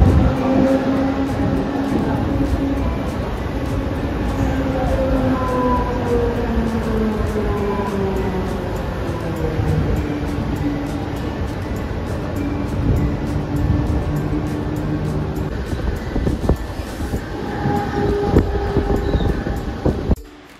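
A train bound for Uran idles and rumbles at CBD Belapur station, with drawn-out tonal whines sliding up and down over a steady low mechanical hum.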